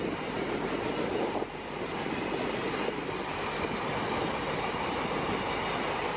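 Long WAG-12 electric freight locomotive and its wagons rolling past close by, a steady loud roar of rail noise with wheel rumble and faint clatter throughout, no voices.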